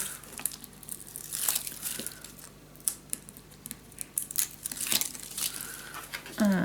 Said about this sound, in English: peel this off.